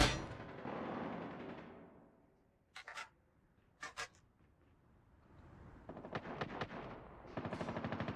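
Gunfire in Call of Duty: Mobile during team deathmatch: quiet, distant rattling bursts of automatic fire, two short isolated bursts, then a longer stretch of rapid shots toward the end, with no talking.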